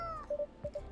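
A cat in Coffee Talk 2 lets out a short pair of meows, close and soft, over faint background music, with no talk.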